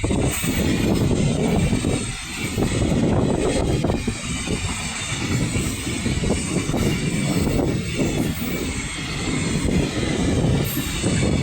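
A cargo train rolls past in mountain country, a loud, steady rumble of rail cars with wheel squeal and clatter that holds throughout, no voices.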